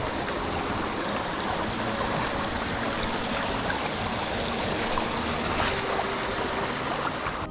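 A small stream flowing beside a hiking trail on Bukit Kutu near Kuala Kubu Bharu, a continuous close babbling and trickling water rush, steady and fairly loud with no speech.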